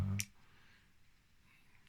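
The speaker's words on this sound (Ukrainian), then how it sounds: "Там знаходиться так званий клікер." A fishing reel rotor's clicker gives a single sharp, close click at the start, followed by quiet room tone.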